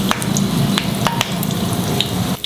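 About eight to ten curry leaves frying in heated oil: a steady, close hiss and crackle with small spitting pops scattered throughout, heard alone with no voices.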